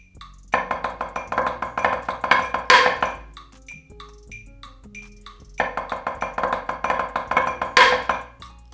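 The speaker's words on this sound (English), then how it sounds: "After that section, you're gonna go back into 16th notes and you're gonna do a cool thumb roll" A drum line (marching snare) plays crisp, rapid 16th-note patterns with backsticking and a thumb roll, in two loud bursts separated by a sparser middle section, close and without talking.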